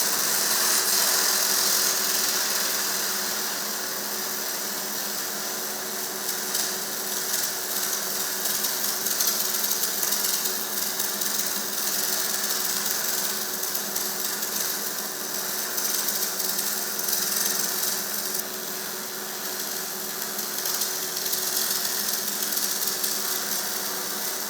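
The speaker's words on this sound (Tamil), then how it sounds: "நீங்கள் இப்போ பார்த்த செயல்முறையானது மின்தி ஆர்க் வெல்டிங் முறையை சார்ந்தது." An arc welding process runs steadily, giving a continuous buzzing, crackling hiss with a faint hum that stays fairly even throughout, with no voices.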